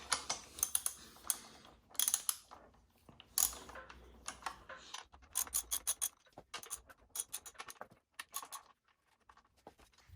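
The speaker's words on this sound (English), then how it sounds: "we're going to go ahead and loosen up each of these 4 bolts" Wrench clicks and metallic ratcheting while loosening the four front fork bolts on a Yamaha WR250R motorcycle, a close series of irregular sharp taps and clinks with short pauses between them.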